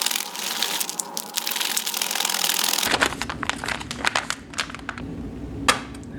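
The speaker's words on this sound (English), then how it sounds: "I'm going to give this a shake." Liquid sloshes inside a Tropical Punch beverage pouch from an MRE Mountain 24hr cold weather ration as it is shaken after about 10 ounces of water are added, a close, steady crinkling rustle with sharp plastic crackles.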